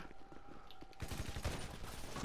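Rapid burst of gunfire in Grand Theft Auto V online deathmatch play, a quieter stretch giving way to loud, dense automatic shots for the second half, with no talking.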